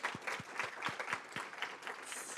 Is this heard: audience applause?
yes